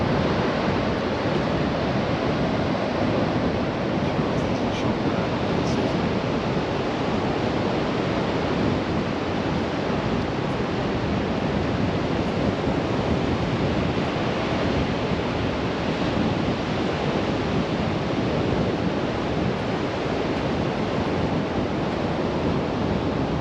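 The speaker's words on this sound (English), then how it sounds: "just going to leave you with the sounds of the beach and the sea" Waves on the beach at Sutton On Sea roll in as a steady, dense surf wash with wind noise, constant and loud, with no voices.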